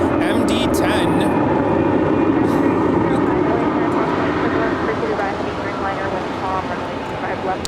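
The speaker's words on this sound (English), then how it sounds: "Yes, we do have another FedEx MD-10." A FedEx MD-10 jet at LAX at night, giving a steady, loud roar of engine noise that fades slightly toward the end, with no voices over it.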